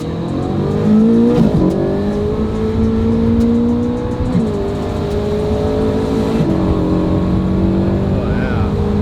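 Ferrari 458 GT engine heard from inside the car while driving, a loud steady drone that rises and falls with throttle and shifts, with road noise underneath.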